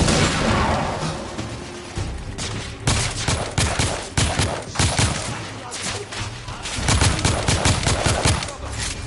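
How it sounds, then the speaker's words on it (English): Console shooter firefight: dense, loud, continuous bursts of machine-gun fire and rapid gunshots with occasional booms, and voices shouting now and then in the mix. "I'm under heavy fire!"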